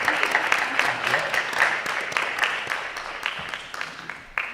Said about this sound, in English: please join me with another round of applause thanking these nice folks